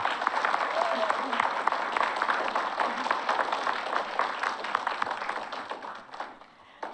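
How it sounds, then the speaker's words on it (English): An audience at a community arts event in Oak Park gives a round of applause, with dense, crackling clapping and scattered sharp claps holding steady before thinning out near the end. "Can we give these guys a round of applause?"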